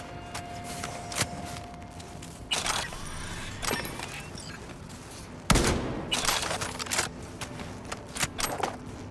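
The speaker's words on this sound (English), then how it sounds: "This assault rifle has a lot of punch in it. This is like the standard assault rifle." Assault rifle fire in Cyberpunk 2077, the standard rifle, heard as loud bursts and single cracks spaced irregularly across the clip, with mechanical clicks and game ambience between volleys.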